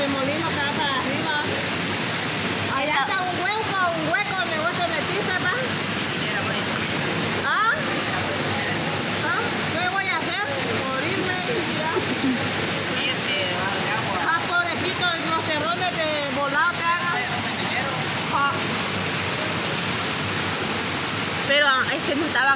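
El Salto de Limón waterfall roars steadily and close, a dense continuous rush of falling water, with people talking excitedly over it throughout.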